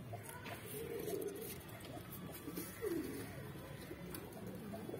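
Pigeons cooing softly in a group of twenty-three kasni mix birds kept for sale, low rolling coos repeating near the listener over a steady background hum.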